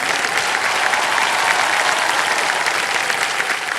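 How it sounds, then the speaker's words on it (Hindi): A studio audience on the Indian quiz show Kaun Banega Crorepati bursts into continuous, loud, even applause that holds steady throughout. "बहुत बहुत धन्यवाद, तालियां बज जाएं।"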